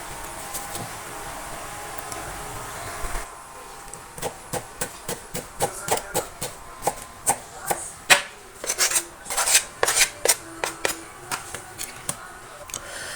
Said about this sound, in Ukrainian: Огірок теж е, наріжу кубиком, не буду сьогодні нічого соломкою різати.